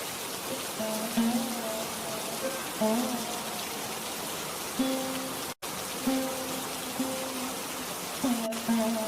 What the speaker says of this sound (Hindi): अरे ये क्या, इतनी तेज बारिश!